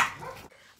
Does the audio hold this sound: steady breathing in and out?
no